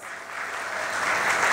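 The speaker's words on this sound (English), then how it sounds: "So let's give ourselves a round of applause." Graduation ceremony crowd breaking into applause, a brief swelling burst of many hands clapping that grows louder over its short span.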